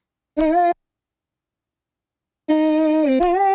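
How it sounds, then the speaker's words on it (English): Two short, dry vocal chops with no effects or reverb: a brief clipped note, silence, then a longer chopped phrase shifting pitch mid-way. "Without the effects, the vocal chops sound like this."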